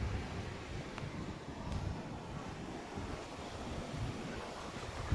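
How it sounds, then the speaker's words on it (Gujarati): Breeze blowing across an open farm with castor crops, a steady rushing wind buffeting the microphone in low rumbling gusts, no voices. "સરસ મજાની હવા આવે છે"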